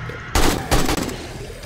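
Gunfire in the video game 7 Days to Die, fired from the hip: two loud, close bursts of shots in quick succession, each ringing briefly before dying away.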